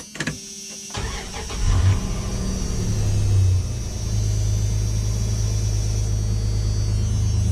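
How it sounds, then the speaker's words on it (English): A Dodge Ram 1500 pickup truck, just given an oil change, cranks briefly and starts, then settles into a steady, close, rumbling idle that holds evenly to the end. "start the car"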